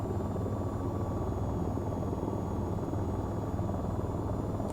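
Steady, loud rotor thrum of an AH-94 attack helicopter in the VTOL VR flight game, a continuous close drone with no talk over it.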